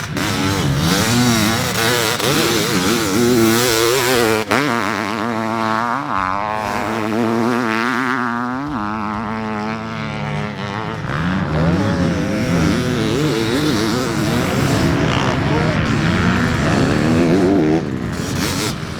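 A Honda CR500 two-stroke motocross bike with a 2023 modern frame, MX-Tech suspension and an FMF pipe and silencer runs loud and close, its engine revving and falling in rough bursts with no voices.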